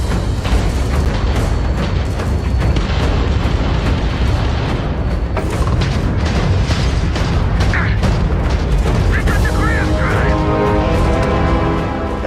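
An enemy spaceship is destroyed in a space combat video game, a loud, dense wash of booming explosions and crackling debris that rumbles on continuously, with a few short electronic tones near the end.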